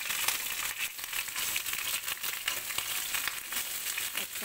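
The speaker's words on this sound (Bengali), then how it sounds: "ফুলকপিটাও এর সঙ্গে দিয়ে একবারে ভেজে নেব" Cauliflower fries in oil in a pan, giving a dense, continuous crackle and sizzle that stays close and steady throughout, with faint stirring scrapes and no talking.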